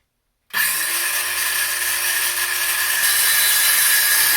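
Wood trim is sawn to length while fitting out a cabin, the cut starting abruptly and running as a loud, steady, continuous rasp with no talk.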